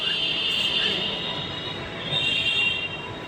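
Steady rumble and high-pitched whine of a metro train at a station in Ahmedabad, continuous and fairly loud throughout.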